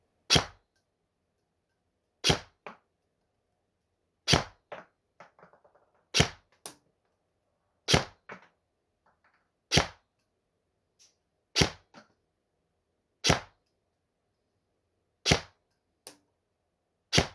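A Specna Arms SA-H02 ONE Ragnarok airsoft replica, fully upgraded and loaded with 0.20 g BBs, fires about nine sharp, evenly spaced semi-automatic shots, with faint clicks and handling noise in between.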